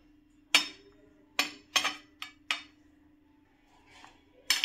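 A spoon clinks on a plate while food is served: several sharp metallic taps spaced irregularly over a few seconds, close and clear above a low steady hum.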